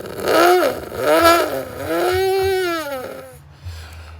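A kid's voice imitating a motorcycle, rising and falling like revving engine bursts, loud and close, with pitch sweeps over about four seconds and no other sound.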